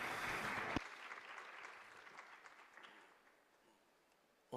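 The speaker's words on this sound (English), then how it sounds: "Please give him a warm round of applause." A forum audience in a hotel ballroom at a young leaders' event in Jeju applauds a company CEO, with a burst of clapping that drops off sharply and then fades to scattered, faint claps.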